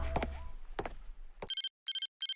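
In a video game, a telephone rings in three short electronic bursts after a few clicks and thuds, clean and moderately loud with silent gaps between the rings.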